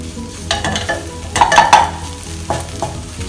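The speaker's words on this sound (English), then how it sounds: "Give them a good stir around" Crabmeat is stirred in a hot wok, with a loud, close sizzle throughout and bursts of spatula scraping and tossing that peak in the middle.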